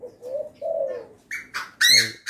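Vietnamese and Thai spotted doves in an aviary coo close by in soft, rising and falling notes, followed by sharper chirps and squawks at the end.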